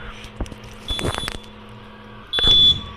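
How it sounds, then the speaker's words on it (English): Loud electronic beeping sounds in bursts from a railway level crossing buzzer warning of an approaching train, the tone sounding twice with a pause between, over low background noise. "buzzer is there to make sure that they remain alert"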